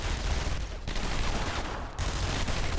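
Rapid bursts of gunfire from the video game Batman: Arkham Asylum, a fast crackling fusillade with two short pauses, fairly loud and continuous across the few seconds.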